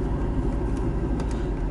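A car drives along early in the morning toward a local pond, a steady, close low engine rumble with road noise throughout and no voices.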